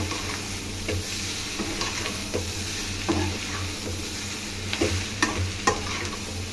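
A Tamil snack fries in a pan and is stirred. A continuous close sizzle carries scattered scrapes and taps from the stirring utensil, and no one talks.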